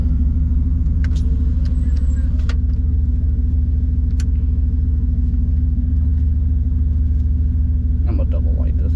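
Turbocharged Chevrolet Silverado pickup engine during hot laps at a race track, a loud, steady low rumble with a droning idle-like pulse filling the whole stretch, a few faint sharper sounds over it.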